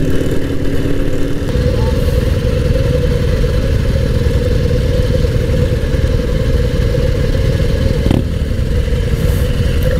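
Loud classic motorcycle engines, including a Moto Guzzi, classic and neoclassic BMWs and café racers, idle close by in Munich, a constant throbbing clatter throughout, broken by a brief sharp knock near the end.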